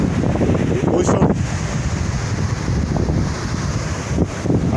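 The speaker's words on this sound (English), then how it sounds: "This is the ocean, this is Ocean View." Wind buffets the microphone over steady ocean surf at a beach facing the open sea, a continuous broad rushing roar with gusts rising and falling.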